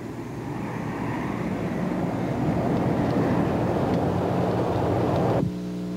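Airplanes flying over, a steady loud rumbling roar that swells and holds for several seconds, then cuts off abruptly into a low hum.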